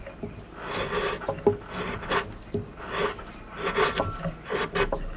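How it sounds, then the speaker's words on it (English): Sharp chisel gently shaving wood in a dovetail log notch on a log cabin, a series of close, soft rasping scrapes in irregular strokes. "Just using a really, really sharp chisel. Just shaving it real gently."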